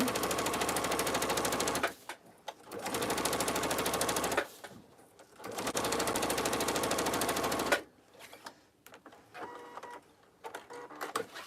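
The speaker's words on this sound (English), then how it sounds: "I'm going to go to my machine and I'm going to quilt that." A sewing machine stitches a long line on a tote bag at a 3.5 mm stitch length, making loud rapid mechanical chattering in long bursts with short pauses, then lighter clicks and handling noise.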